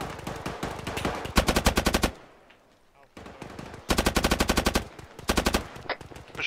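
Loud automatic gunfire rattles in a military video game, coming in rapid, repeated bursts with brief quiet gaps between them.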